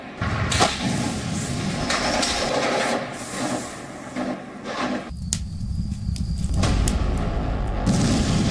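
Tank cannon and rocket fire hit a building in Mariupol, with heavy booms and sharp blasts over a continuous low rumble. A sudden loud impact lands midway, then further bursts and crackling follow. No voices.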